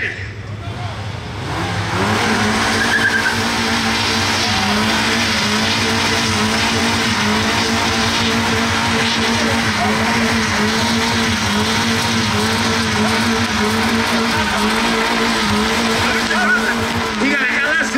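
Burnout at a tuner car show from a car fitted with an LS engine: a loud, sustained engine roar and continuous tyre squeal hold steady for most of the clip, with crowd voices under the noise.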